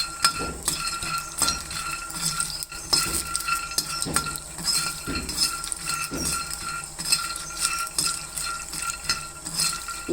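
Chana dal dry-roasting in a pan with no oil, stirred by a utensil in steady scraping strokes with repeated clinks against the metal, close and alone without talk.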